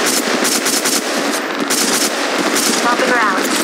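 Incoming fire in the mobile game Apex Legends Mobile: a sustained, loud stream of rapid automatic shots with dense overlapping bursts that keep going without a break for several seconds.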